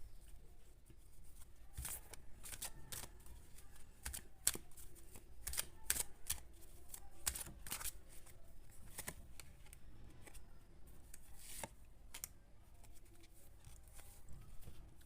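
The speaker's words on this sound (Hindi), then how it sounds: "थोड़ा सा और क्लियर करते हैं कार्ड को।" Soft, irregular flicks and riffles of tarot cards being shuffled close by in a quiet room, with light taps scattered throughout and no talking.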